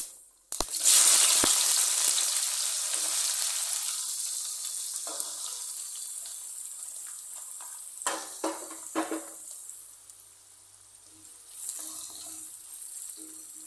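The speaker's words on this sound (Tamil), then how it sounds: "இதில் வெங்காயம் வதக்கிடலாம்" Onions sautéing in hot oil with cinnamon, star anise, marathi moggu, cardamom, cloves and fennel give a loud, steady sizzle that slowly fades, broken by a few clattering stirs of the pan near the end.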